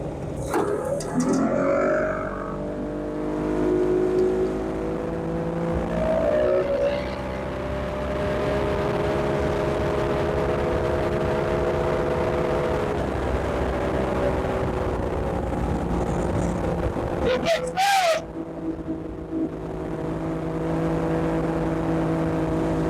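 A large outboard motor mounted on a 12 ft jon boat runs steadily at close range, its engine drone holding nearly constant with small shifts in pitch and a brief interruption partway through.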